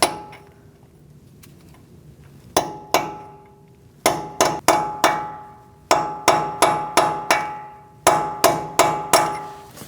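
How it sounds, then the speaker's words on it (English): Hammer strikes on a cold chisel or punch peening down a torqued front axle nut on a 2002-2006 Toyota Camry, sharp metallic clangs in quick clusters of three to five, loud and close with ringing decay and no talk. "we're going to peen down the nut using a cold chisel or a punch"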